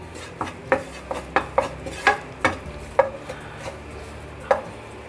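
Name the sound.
stirring and roasting flour in a pan for white sauce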